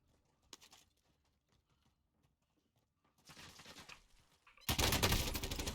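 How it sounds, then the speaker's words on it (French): Gunfire in the video game Warzone, faint scattered shots at first, then a burst of rapid fire and a louder, dense volley near the end, with no talk. "le mec te tirait dessus, il est en face de toi là-bas"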